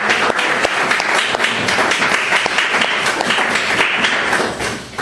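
A church congregation applauds, a dense, loud burst of many hands clapping together that holds steady for several seconds before starting to fade.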